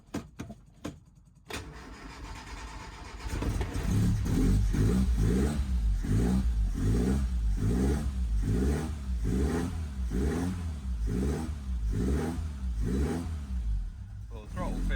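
A Lotus Elan car engine cranks briefly, catches and settles into a steady loud idle with rhythmic revving pulses, running continuously after a few seconds of quieter clicks.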